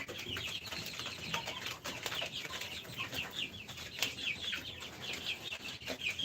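Flock of 47-day-old laying hens clucking steadily and densely, many birds close together with overlapping calls and occasional wing flaps, no talking.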